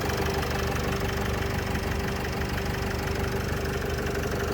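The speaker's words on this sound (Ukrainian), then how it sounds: "Моторчик працює просто відміну." A 2014 Nissan Primastar van's 2.0-litre engine idles steadily up close, a continuous low rumble with a faint rhythmic knock and a thin whine, unchanging throughout.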